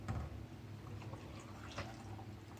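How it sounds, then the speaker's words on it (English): A beet drink is poured over ice, a short, soft liquid splash and gurgle heard close up in a quiet room. "okay, so I'm going to pour it over the ice."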